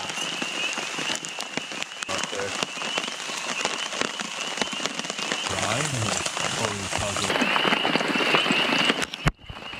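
Steady rain pattering on a tent close by, a dense continuous hiss with occasional heavier drops and faint movement underneath.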